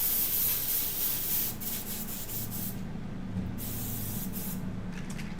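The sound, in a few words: airbrush spraying pigment paint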